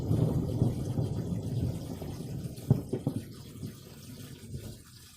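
Thunder rumbles low and broad across the sky during a storm over a garden pond, a long rolling roar with a few sharper cracks midway before it fades out, with no voices.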